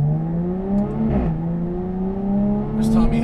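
A Jaguar F-Type V6S coupe is driven fast, its engine droning steadily and rising gradually in pitch as it accelerates, heard from inside the car with a brief dip as the gear changes.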